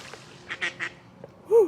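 Ducks at a creek in a nature park give a few soft quacks, then one louder, clearer call near the end, with brief splashy rustles as they land in the water.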